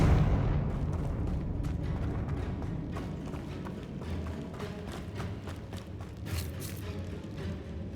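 Blasts of the Confringo spell in Hogwarts Legacy, a muffled rumbling boom at the start fading into scattered impacts and crackles across the clip, with no speech.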